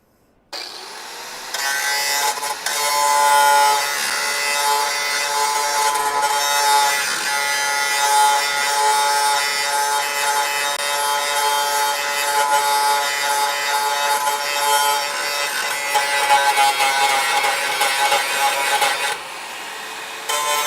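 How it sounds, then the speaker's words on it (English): A grinding wheel smooths a metal edge on a car body, a steady, loud abrasive whine with grating texture running almost unbroken for about twenty seconds, with no talking. "I'm gonna go at it with the grinding wheel again, guys. I just gotta smooth that edge out"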